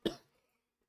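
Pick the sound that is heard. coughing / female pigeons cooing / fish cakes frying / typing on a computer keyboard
coughing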